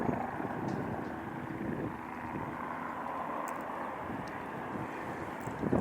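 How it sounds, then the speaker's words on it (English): Helicopter flying nearby, a steady low rotor drone and engine rumble mixed with wind noise, fairly constant in loudness. "There's a helicopter on my right."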